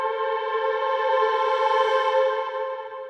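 A sustained ambient techno pad, heavily treated with reverb and delay, hums as steady layered tones that swell slightly mid-clip and linger in an echoing wash, with no voices.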